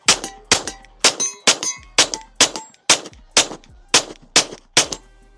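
Rapid pistol shots from a Girsan MC 14T ringing off steel targets, about a dozen sharp cracks each followed by a metallic clang, in quick irregular succession at close range.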